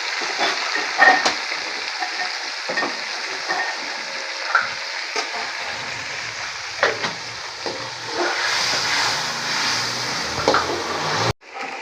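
Garlic, ginger and green chilli fry in hot oil with a steady crackling sizzle and occasional stirring scrapes, close up and without talk, ending in a brief abrupt cut.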